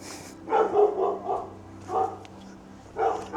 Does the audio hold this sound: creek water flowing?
no